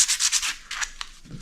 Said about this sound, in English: it's not a bad idea to scuff up this washer a bit on a piece of sandpaper